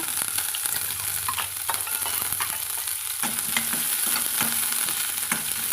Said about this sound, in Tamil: இப்போது நம்மளுக்கு கடுகு பொறிஞ்சு வருதுங்க நல்லா பொரியட்டுங்க